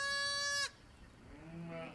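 Sheep on a farm during lambing season, one loud, close bleat that cuts off sharply, followed by a fainter, softer bleat from another animal a moment later.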